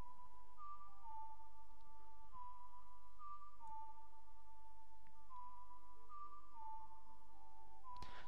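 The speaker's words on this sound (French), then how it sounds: "Et elle y va au sifflet." A person whistles Zelda's Lullaby from the Ocarina of Time 3D video game, a slow, quiet run of sustained tones that step up and down in a steady rhythm, repeating the short phrase several times with no speech.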